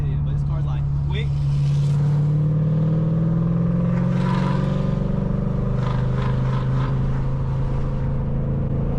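A Ford Mustang GT accelerates from inside the cabin, a deep engine drone rising in pitch under occasional talking, with road noise steady throughout.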